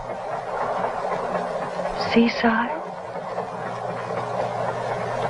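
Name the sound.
moving train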